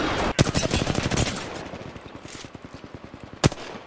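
Rapid automatic gunfire in the Apex Legends video game: a fast, loud burst of closely spaced shots that tapers into a quicker, quieter rattle, with a single sharp shot near the end.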